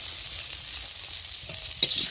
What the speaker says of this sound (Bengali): দেখো কচুরমুখি ভাজাটা কত সুন্দর হয়েছে না এইভাবে একটু ভেজে ভেজে নিলে